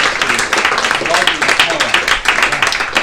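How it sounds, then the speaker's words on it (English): An audience at a real estate event claps steadily in dense, continuous applause that fills the whole stretch at a loud, even level, with a voice mixed into the sound. "Give Josh a round of applause"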